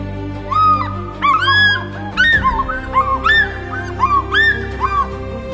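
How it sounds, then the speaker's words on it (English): An African fish eagle in Zambia's South Luangwa National Park gives its ringing, yelping cry, a loud series of sharp repeated calls with a steady low hum underneath. "It is the call of the African fish eagle, Zambia's national emblem and a master of the skies."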